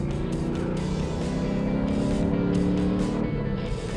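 A loud, continuous engine roar that rises and swells, the sound of a 2000 Mustang Cobra R engine being revved up close.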